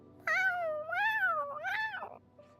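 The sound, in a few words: cat meowing in a video game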